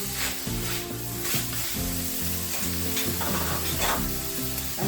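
Chopped onions hit hot oil in a pot for a one-pot creamy tomato beef pasta, giving a loud continuous sizzle with stirring scrapes and a faint music bed beneath.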